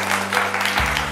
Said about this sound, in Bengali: একটা জোরে হাততালি হয়ে যাক for all the team member